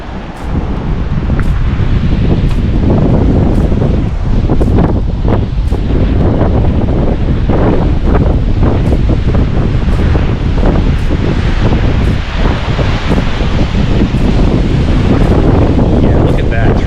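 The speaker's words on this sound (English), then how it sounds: "It's real windy." Strong, constant wind roars and buffets the microphone on the Glymur waterfall hike in Iceland, a loud, steady low rumble with gusty crackle lasting throughout.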